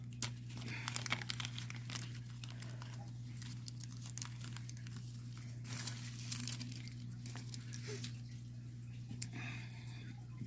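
Nail foil packaging being handled gives faint, close crinkling and rustling over a steady low electrical hum.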